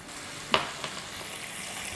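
Spices including Kashmiri chili powder, chili powder, chaat masala, cumin and salt hitting hot oil with potatoes in a frying pan, giving a steady close sizzle with a sharp crackling burst as they land.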